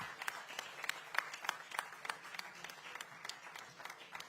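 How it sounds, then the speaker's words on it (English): Steady audience applause, a dense patter of many hands clapping at a moderate distance, continuing evenly throughout with no break. "A big round of applause to them, please."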